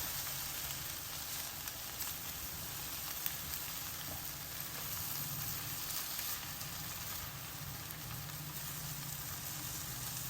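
Cabbage and egg fry sizzle steadily in a pan, a constant soft hiss with faint crackle throughout, no talking.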